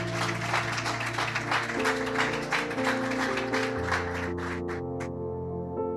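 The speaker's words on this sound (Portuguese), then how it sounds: "Você pode aplaudir Jesus?" A church congregation claps along over sustained organ or keyboard chords during a worship service, the applause dense at first, then thinning to a few scattered claps before the music fades out.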